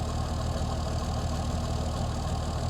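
A 60-year-old International 6x6 army truck's engine runs at a steady, rumbling idle, loud and close throughout with no talking.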